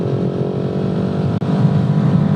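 A KTM 690 single-cylinder motorcycle engine running steadily close by, a loud, even throaty drone with a brief dip in the middle.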